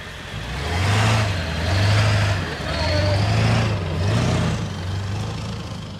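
A Super Duty 4x4 pickup truck, a diesel, spins donuts, its engine droning loud and close in rising and falling surges with a throaty low rumble throughout while a voice comes and goes.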